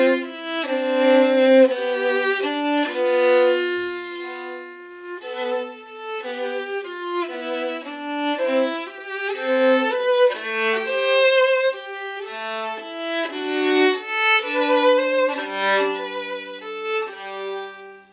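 A Bach passage on violin with the notes slurred in groups of eight, flowing in smooth connected runs at a steady pace, played solo and close for about eighteen seconds.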